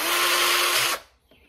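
A power drill fitted with a thick bit bores a recess for a nut into rubber for a scupper-plug kayak cup holder, a loud steady grinding whine for about a second that then cuts off abruptly.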